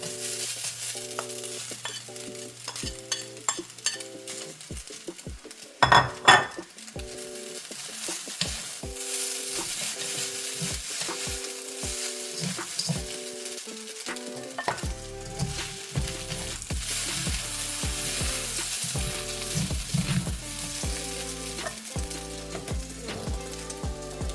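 Chow mein ingredients stir-fry in a hot pan with a steady, close sizzle. Utensils scrape and tap in quick irregular strokes throughout, with one louder clatter early on. No one talks.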